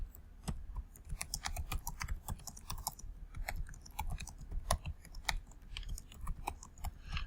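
Typing on a computer keyboard, entering filler text into a file: quiet, close, irregular key clicks in quick bursts with short pauses, steady throughout and with no voice.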